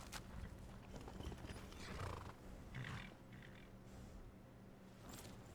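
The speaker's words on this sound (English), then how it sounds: "So get on your horse and ride." Horse galloping in Skyrim Special Edition, hooves pounding in a steady rhythmic clip-clop with occasional rising bursts, fairly close and moderately loud over outdoor ambience, no talking.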